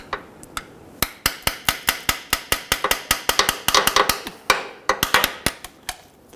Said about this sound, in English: Give it a few light taps.